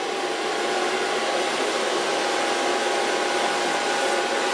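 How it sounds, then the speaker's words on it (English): A hair dryer blowing hair dry while a brush works through it, a steady loud whooshing drone with a faint whine, running unbroken throughout with no talk. "Start blow drying with a brush almost an inch."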